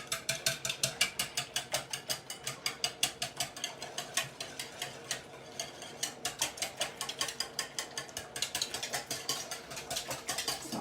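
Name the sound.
whisking maple syrup and cinnamon mixture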